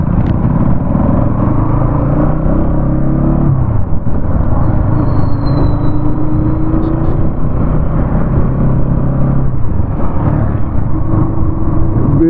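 A Bajaj Pulsar NS 200 motorcycle with USD suspension is ridden on the road, its engine a loud, steady, continuous rumble and whir throughout, heard up close with no talking.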